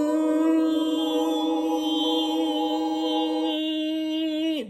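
A human voice imitates a huge swarm of mosquitoes and black flies with a sustained, even, nasal buzzing hum that holds steady for several seconds before cutting off abruptly.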